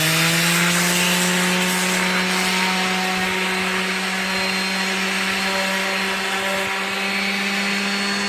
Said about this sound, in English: This is some 80 grit sandpaper on here.